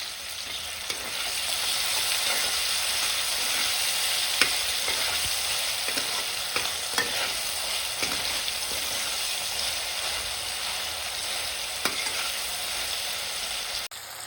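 Tomatoes with salt frying in a pan for ghevda bhaji, a steady close sizzle with occasional soft stirring scrapes and light clicks throughout.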